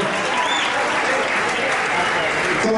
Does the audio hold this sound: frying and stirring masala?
no